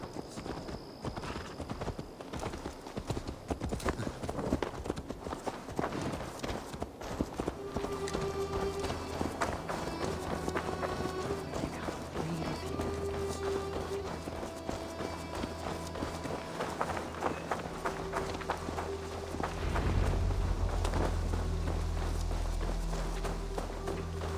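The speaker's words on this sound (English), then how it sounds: "Let's return the horse." Horse hooves clip-clop in a Viking-era video game, steady walking footfalls at moderate distance over ambient music and game sounds, with a louder rumbling swell near the end.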